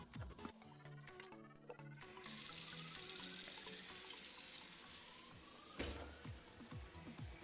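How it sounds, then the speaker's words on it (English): Tap water pours steadily into a kitchen sink during a garbage disposal replacement, a broad hissing rush that starts after a few clunks and runs on alone, close and continuous. "I always plug the sink, fill it with a couple gallons of water"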